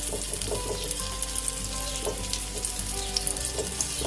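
Onions and tomatoes softening in a pan over low heat for an omelette give a steady, even sizzle, with faint stirring clicks and taps in the background throughout.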